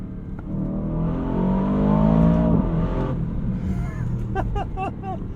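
An Aston Martin DBX 707 SUV engine revs hard above 3,000 RPM, a loud, steady mechanical roar with a rushing intake note that climbs and then settles, heard close from inside the cabin.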